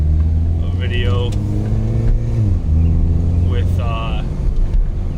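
A 2010 Mini Cooper S R56 fitted with an Invidia Q300 exhaust hums and rises and falls in pitch as it revs, its steady engine drone sitting under a voice.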